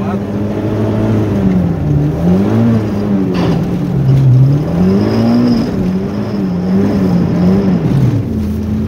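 A car engine revs hard with the gas pedal floored while stuck in deep snow during a snowstorm, its pitch rising and falling in repeated surges over a continuous loud drone.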